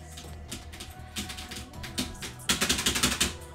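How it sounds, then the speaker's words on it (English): Computer keyboard being hammered when it stops working, a close run of sharp clacking strikes that builds into a fast, loud flurry of rapid hits near the end, with no talking. "That's the sound that I do when my keyboard stops working because of the USB hub."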